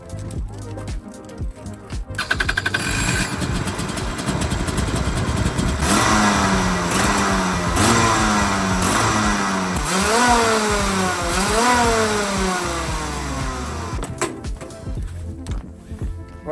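A go-kart engine fires up and revs repeatedly at a racing track, loud and close, with rising and falling pitch sweeps as the throttle is blipped before it settles back to a steady idle.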